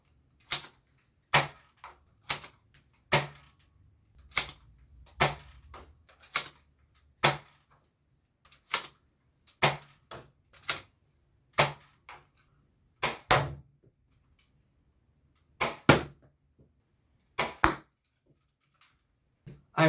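Toy dart blaster firing Econ waffle head darts, about twenty sharp, loud snapping shots spaced at irregular intervals, some close pairs, with near silence between them.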